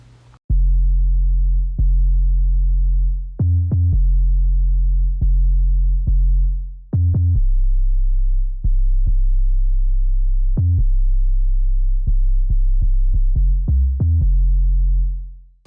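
A deep 808 bass sine tone from a Logic Pro X session plays loud and alone, sustained booming notes with sharp clicky attacks, repeating in a rhythmic pattern with shifting pitches and quicker hits near the end.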